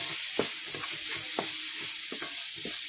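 Papaya halwa with green cardamom powder in ghee being stirred with a spoon, giving about six soft scraping strokes in an uneven rhythm over a steady sizzle, close up and with no voices.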